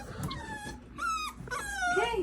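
Several wet puppies being towel-dried after a muddy bath whimper and yip in short high cries over soft rubbing and rustling, close by, with a person talking intermittently.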